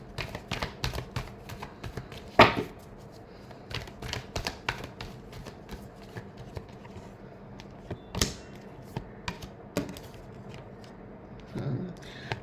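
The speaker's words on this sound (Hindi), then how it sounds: "last shuffle" Tarot cards being shuffled by hand for a reading, with soft, quiet, irregular riffling and flicking, a few sharper snaps, close by, and a voice speaking between bursts.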